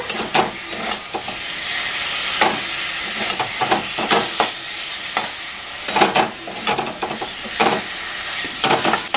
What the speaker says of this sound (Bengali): দিয়ে একটু নাড়াচাড়া করে